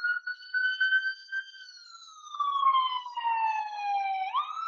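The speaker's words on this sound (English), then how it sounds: "there's a ambulance coming through here" An ambulance siren passes by with a loud, clear wail that glides slowly downward, then sweeps sharply back up near the end. No voices are heard over it.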